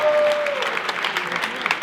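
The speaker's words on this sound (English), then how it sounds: "Round of applause for that, please." Audience at a Beirut salsa festival awards night breaks into brisk, dense applause for the performing artists, a short burst of clapping with a few cheering voices underneath.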